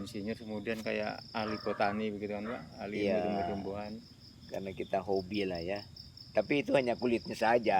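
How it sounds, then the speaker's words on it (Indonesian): Crickets chirp at night in a quiet place away from the city, a thin steady trill running faintly beneath a relaxed conversation between men. "Ada suara jangkrik ya kan."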